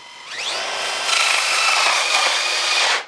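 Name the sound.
power drill drilling into foam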